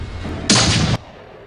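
A single loud, abrupt burst of gunfire from the Japanese tokusatsu drama Kamen Rider G, a harsh blast lasting about half a second before cutting off sharply against a quiet background.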